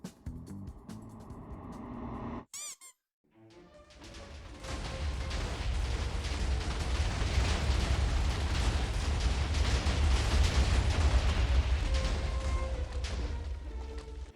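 Rumbling, continuous TNT blasts in Minecraft as tunnels dug through the ground detonate, a sustained loud roar after a brief quiet gap, with dense low-end booms layered together for over ten seconds.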